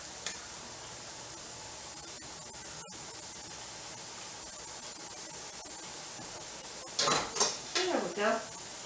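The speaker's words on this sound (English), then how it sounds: "I'm going to use 2 big good spoons to pull it out." Two big spoons lift cabbage for beef stuffed cabbage rolls out of a pot of boiling water. A steady hiss of boiling runs throughout, then near the end come close clatters and splashy water sounds.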